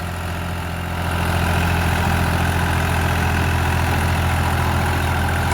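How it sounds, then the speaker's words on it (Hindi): A New Holland 3600-2 50 hp tractor idles steadily with a rotavator attached, its low diesel rumble close and continuous, growing a little louder after the first second and holding even with no talk. "तो ट्रैक्टर भाई अभी भी बंद नहीं हुआ।"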